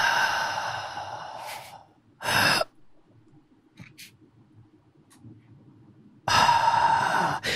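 A voice imitates the loud breathing of a sleeper, giving long breathy inhales and exhales in a slow rhythm with quieter gaps between them. No words are spoken.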